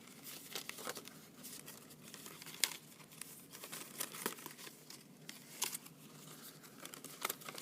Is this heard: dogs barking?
no